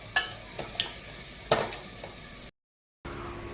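Garlic cloves frying in mustard oil in a kadai for a momo chutney, with soft sizzling and a few sharp stirring clatters, broken off by a brief silence near the end.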